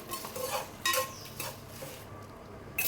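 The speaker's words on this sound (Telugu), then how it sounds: "ఆయిల్ పోసిన తర్వాత మొత్తం కలిపేసుకుందాము" A dried chili and sesame mixture stirred in oil in a pan, with scraping strokes and a few metallic clinks of the spoon over a faint sizzle, close and fairly quiet.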